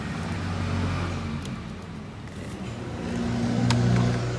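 A Peugeot 306 petrol car engine, just back from a blown-fuse repair, turns over and idles steadily nearby with a low rumble, swelling slightly louder toward the end, with no talk.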